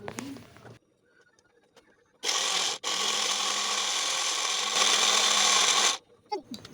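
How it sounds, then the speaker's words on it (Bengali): A kitchen mixer blender purées mango flesh, whirring loudly and steadily for about four seconds with a momentary cut near the start, then stopping abruptly, with quiet handling noises before and after. "এবার মিক্সারে দিয়ে সবগুলোকে ব্লেন্ড করে নেব।"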